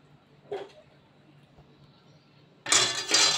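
Plates and a serving spoon clink as bhetki fish curry with potato, eggplant and mustard-poppy paste is dished up: a single light clink, then a louder cluster of dish and cutlery knocks close by.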